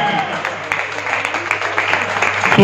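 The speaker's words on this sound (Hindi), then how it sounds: "सुमित अग्रवाल जी के लिए खड़े होकर जोरदार तालियों से स्वागत" Loud standing ovation from a crowd at a Vaishya community meeting in Rampur, with dense clapping that builds and grows stronger toward the end, with some voices mixed in.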